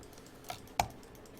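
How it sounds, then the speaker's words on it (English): A left mouse button is pressed and then released, giving two sharp, close clicks about a third of a second apart against quiet room tone. "So watch me press left mouse button and release."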